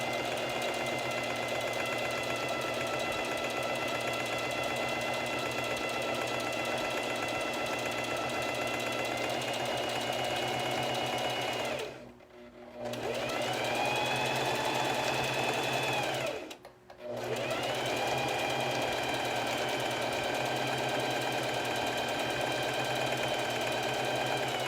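A sewing machine runs steadily while stitching a fabric collar, a close, continuous mechanical whir broken by two short pauses before it starts up again.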